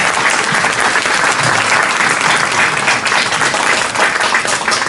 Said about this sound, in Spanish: a quien dejo con ustedes con un fuerte aplauso.